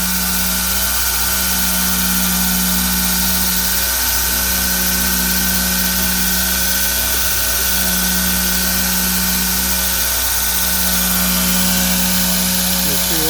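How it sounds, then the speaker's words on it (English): A 2x72 belt grinder wheel turned to drive a surface grinder, giving a continuous loud mechanical whir and hum with a slow repeating pulse, running steadily throughout. "you just grab this wheel and turn it, and that's what drives the surface grinder"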